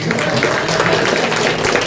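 Audience applause at a Mother's Day celebration in Anivala village, Hosadurga taluk, Chitradurga district, a dense, steady wash of clapping that holds at an even loudness throughout.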